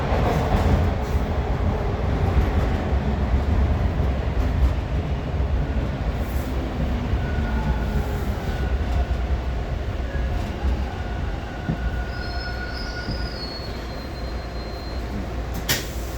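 Toronto subway train pulling into Bathurst Station, a steady low rumble and wheel roar that fills the platform and holds constant throughout, with faint squeals of metal rising near the end.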